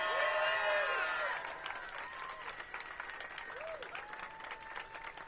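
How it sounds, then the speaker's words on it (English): Applause from an outdoor Pride rally crowd at Freedom Plaza, loud at first and then thinning into scattered clapping and cheers, with a voice talking over it. "let's give her a big round of applause for her service to Washington, D.C."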